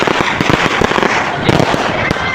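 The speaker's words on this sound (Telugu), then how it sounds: "క్రాకర్స్ కూడా స్టార్ట్ అయిపోయినాయి." Firecrackers going off at a village festival fair (jathara) near Madhurapudi, a dense run of sharp cracks and pops layered over crowd noise and faint talk, loud and continuous throughout.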